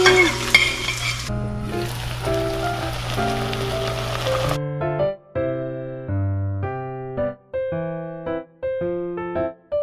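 Ginger, garlic and onion sizzle loudly in a frying pan with a steady hiss for the first few seconds, with some stirring, before music takes over.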